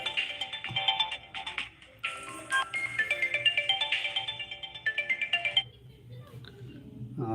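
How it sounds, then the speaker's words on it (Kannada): A phone ringtone plays a bright electronic melody in repeated phrases, fairly close, then cuts off near the end. "ಫೋನ್ ಬರ್ತಾಯಿದೆ"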